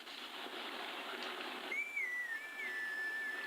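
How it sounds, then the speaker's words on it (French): Link whistles a tune on a blade of grass to call his horse Epona in the Twilight Princess video game, a clear sustained melody of gliding notes over a steady ambient game background. "Tu veux bien aller cueillir de ces plantes et siffler un air pour Epona?"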